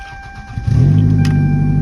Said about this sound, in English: Shitty exhaust leak, obviously.